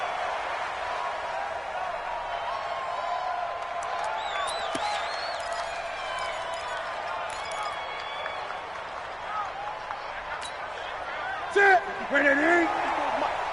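An NFL stadium crowd for the Minnesota Vikings against the Carolina Panthers keeps up a steady roar with scattered cheers and whistles, while people talk over it and a few brief louder bursts rise near the end.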